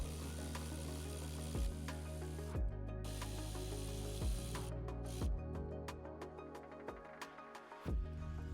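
Ratchet clicking in rapid bursts while unbolting a seatbelt anchor inside a Ford F-150 cab, close and crisp, with short pauses between runs of pawl clicks and no talk.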